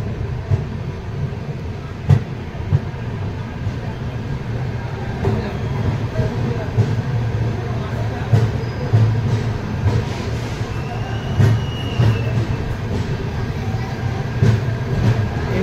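The Padatik Express sits halted at New Cooch Behar station, giving a steady low rumble from the carriage with occasional clicks and knocks, while voices murmur faintly in the background.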